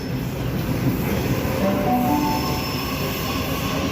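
A Sydney train at a Central station platform rumbles past with squealing wheels and rolling rail noise, loud and continuous throughout with faint tonal screeches.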